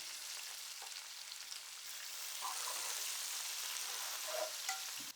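Onion, urad dal and curry leaves frying in oil for an eggplant, raw mango and drumstick curry, giving a soft continuous hiss with faint spatters and a light clink near the end, no talk.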